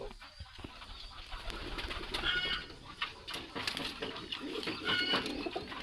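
White Gold pigeons in a loft coo softly and steadily, a low murmuring burble under light rustling and scattered faint chirps, with no voices.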